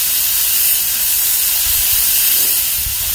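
Red onions sizzle on a smoky Arteflame grill, giving a loud, steady, close hiss that holds unbroken throughout, with no talking.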